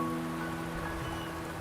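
Light rain patters evenly in the video game Wuthering Waves, a soft, steady wash of drops beneath faint lingering musical tones, brief and unchanging.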